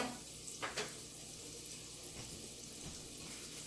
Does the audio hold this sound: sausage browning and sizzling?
yes